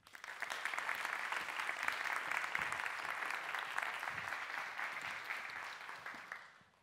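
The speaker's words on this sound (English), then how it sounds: "Applause, please, for Erin Lafferty." Audience applause swells quickly and holds as a dense, even wash of clapping for a contestant at a FameLab international science communication semi-final, then tapers off at the end.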